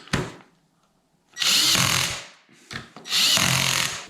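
A power screwdriver unscrews a ski touring binding in two short whirring bursts separated by pauses, close and fairly loud, with a brief click before each burst.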